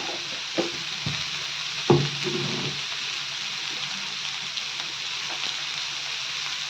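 Cabbage frying on a tawa with red chilli powder and salt, a soft sizzle and a few spoon scrapes and knocks as it is stirred.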